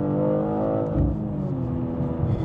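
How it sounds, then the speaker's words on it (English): A BMW M2 launching hard with heavy wheel spin, its engine revving loud and close as it accelerates, a strong steady roar with rising pitch and no talk over it. "Yeah, that was a lot of wheel spin."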